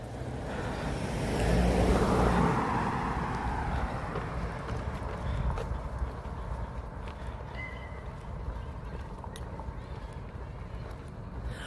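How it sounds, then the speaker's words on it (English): Cars pass along a city street at night in Toronto's High Park, with one swelling rush early on and then a steady, low traffic hum under outdoor ambience. "Here comes the cars."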